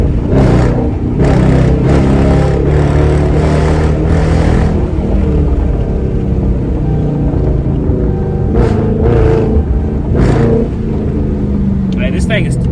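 A Dodge Charger R/T engine with pedal control roars and revs in repeated surges, a deep throaty rumble up close with someone speaking over it.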